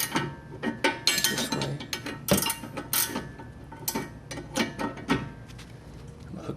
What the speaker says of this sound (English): You have to actually use another wrench to get some good leverage.